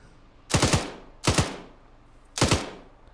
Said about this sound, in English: Taking a lot of fire from right here now.